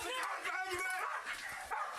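A dog barks and yips in short, whimpering bursts amid a chaotic scene, heard under loud, shouting voices.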